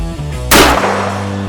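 A single pistol shot cracks loudly at an outdoor range, a sharp close blast that trails into a short decaying echo over a low background hum.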